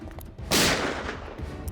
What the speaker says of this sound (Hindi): गोली चलने की आवाज आई।